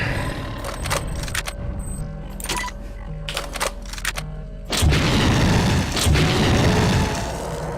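An incendiary grenade explodes in the game System Shock 2: scattered clicks and mechanical ticks give way to a sudden loud, broad blast that roars and crackles for several seconds, close and without speech.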